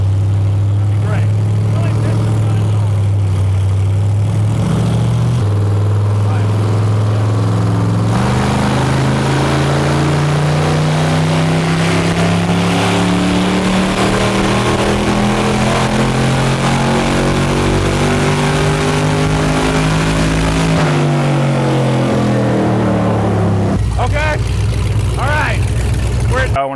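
An American V8 engine swapped into a Porsche 911 idles with a deep, steady rumble and then revs, its pitch climbing and falling, loud and close. Voices talk over part of it.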